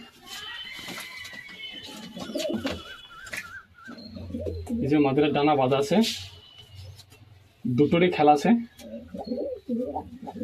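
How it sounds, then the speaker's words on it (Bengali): Pigeons kept for sale coo in several rolling bursts, close by, with someone talking over and between them. "খুব সুন্দর একটি কবুতর।"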